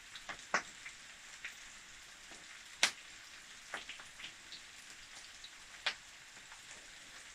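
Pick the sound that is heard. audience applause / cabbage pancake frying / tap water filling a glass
cabbage pancake frying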